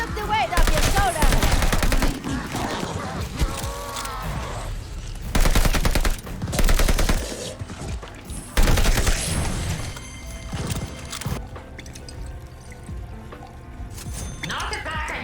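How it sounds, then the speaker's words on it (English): Combat in the shooter Call of Duty Vanguard, with loud automatic gunfire in dense bursts and separate heavy volleys that thin out toward the end. The firing sits amid game effects and faint voices. "the shift from indoor gunfire to outdoor gunfire is very noticeable"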